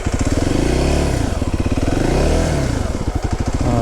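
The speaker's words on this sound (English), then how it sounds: "Throttle, easy on the throttle, Eric." A motorcycle engine on a mountain road throttles up and down, a loud, close, continuous roar with rising and falling revs and no talk over it.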